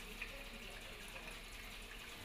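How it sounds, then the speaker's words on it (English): Cold tap water runs steadily while a denture is rinsed under it, producing a continuous close hiss of flowing water with no breaks. "Rinse with cold running water and place back into a labelled denture pot."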